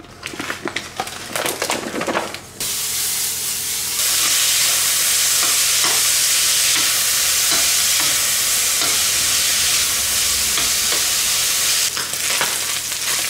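Lardons sizzling in a pan, a loud continuous fry hiss that starts after a few seconds of handling noise, with occasional stirring scrapes and pops.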